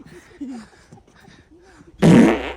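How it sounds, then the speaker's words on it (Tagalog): People chat quietly for a moment, then a loud, close, raspy fart bursts out and lasts about half a second. "Boss, umutot po."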